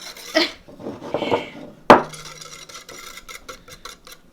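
Chocolate espresso cake batter being stirred in a bowl, with scraping, knocking utensil sounds, a sharp clack near the middle, then a soft rhythmic series of taps and scrapes.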